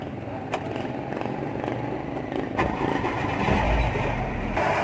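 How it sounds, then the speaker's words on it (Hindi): A car engine with a throttle position sensor fault and black smoke problem turns over and settles into a steady, rough idle, loud and close throughout with no speech. "तो मैं अपनी गाड़ी का इंजन स्टार्ट करता हूँ।"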